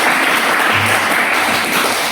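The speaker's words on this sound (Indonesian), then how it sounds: "Bagus sekali, kasih tepuk tangan" Classroom students clapping together in a short, loud, dense burst of applause that stays steady and close throughout.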